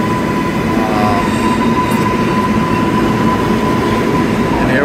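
A New York subway train at Times Square station gives off a loud, continuous rumble of wheels and cars that fills the whole stretch, with a brief high squeal rising early on.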